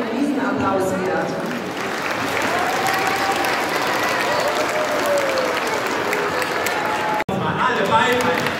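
A large audience claps throughout at a Christmas party for people in need, held in exhibition halls in Magdeburg. The dense applause holds steady for several seconds, with murmured voices in the crowd.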